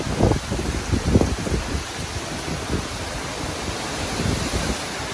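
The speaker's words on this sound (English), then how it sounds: "Oh, about to get another wind gust." Strong gusts of Hurricane Ian in Tampa, Florida roar as broadband wind noise buffeting the microphone, with louder surges near the start and at the end.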